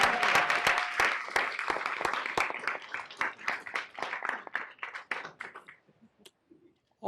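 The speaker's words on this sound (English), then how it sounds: "More claps." Audience applause at a city council meeting for a student award, steady scattered clapping from a modest crowd that thins out and fades to a few last claps near the end.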